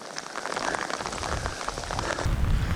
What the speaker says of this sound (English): try and get out of this rain. Oh, oh man, it is pouring down.